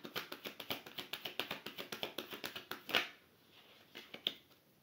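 Tarot cards being shuffled and cut by hand, a quick steady run of crisp flicking taps for about three seconds, then a few isolated card slaps, close and quiet with no talking.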